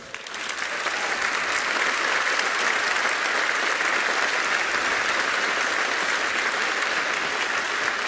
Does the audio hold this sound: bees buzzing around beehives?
no